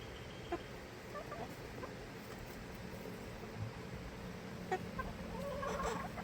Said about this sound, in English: She's just a bantam, but she is highly aggressive when it comes to those worms.